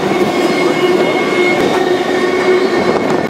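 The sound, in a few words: freight train rolling along the tracks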